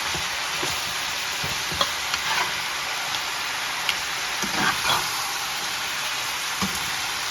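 Spaghetti with mussels, basil, chili and garlic stir-fried in a pan: a steady crackling sizzle with occasional louder stirring scrapes and clinks, close and continuous, with no speech.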